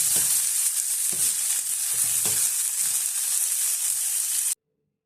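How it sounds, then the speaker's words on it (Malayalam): Onions sauté in a pan with a continuous bright sizzle and a few soft stirring scrapes, close and steady, cutting off abruptly near the end. "സവാള നന്നായിട്ടൊന്ന് വഴച്ചെടുക്കാം."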